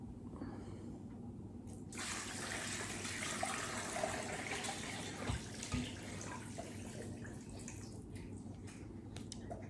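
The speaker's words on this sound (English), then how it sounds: "And then I'm just going to fill this up with water." Filtered water runs from a tap into a cooking pot for homemade chicken stock, making a soft, continuous splashing rush that gets fuller after a couple of seconds.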